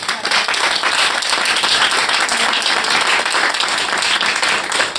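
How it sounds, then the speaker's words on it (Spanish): Steady, dense applause from the audience at a book presentation, loud and even throughout with no pause. "Otro aplauso para..."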